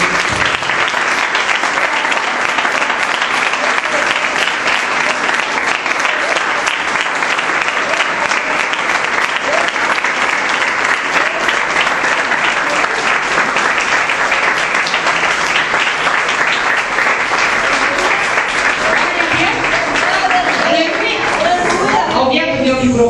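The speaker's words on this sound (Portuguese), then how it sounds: "Vamos nessa aplaudir a Jesus." A church congregation applauds loudly and continuously, a dense sustained roar of many clapping hands with crowd noise mixed in, lasting throughout before thinning slightly at the close.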